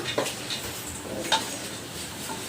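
A spoon stirs peas, carrots and beans in a pan for pulao, with soft scrapes and a few light metallic clinks over a faint sizzle. It is quiet and close, with no talking.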